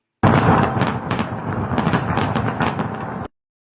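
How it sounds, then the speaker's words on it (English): A fireworks sound effect bursts in loud and dense, with a rapid barrage of booms and crackling pops that rumble on for about three seconds before cutting off abruptly. "And yeah, I think I will do the fireworks."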